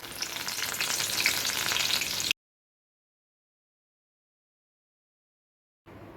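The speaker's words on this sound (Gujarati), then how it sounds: "એ જ રીતે આપણે અહીંયા ફુદીનાને પણ ફ્રાય કરી લઈશું।" Mint leaves frying in hot oil give a steady, fairly loud crackling sizzle for a couple of seconds, then the sound cuts to silence before the sizzle briefly returns at the end.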